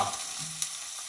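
Sun-dried tomatoes sizzle in a pan, a quiet crackling hiss lasting about a second with one small sharp spatter midway.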